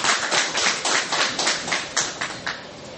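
An audience applauding for the president of Guinea at a public gathering, a run of uneven, fairly close hand claps that taper off slightly over three seconds.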